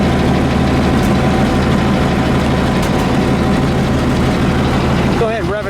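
A 90-horsepower 1920 Packard Twin Six Runabout engine idles steadily and loudly up close, a constant low throb running throughout, with a voice talking over it near the end.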